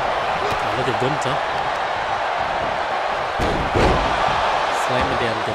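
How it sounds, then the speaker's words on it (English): A wrestler is slammed down onto the mat during a pro wrestling match, a single heavy thud under continuous commentary talk and crowd noise. "Slamming down Guevara to the mat"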